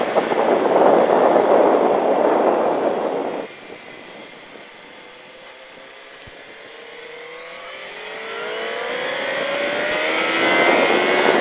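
A motorcycle engine roars loudly, drops away, then climbs again as it revs up through the gears, passing from near to somewhat farther off.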